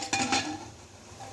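A pressure cooker lid is fitted and clipped into place, giving two quick metallic clinks close by, then a faint knock as it settles.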